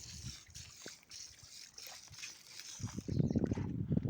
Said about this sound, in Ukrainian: виливаємо розбавлений протруювач